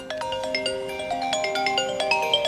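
Phone ringtone from an incoming call, playing through a paired BMW Motorrad F 900 R motorcycle's dashboard system: a bright repeating melodic tone pattern with steady rhythmic notes, continuous and clear, no talking.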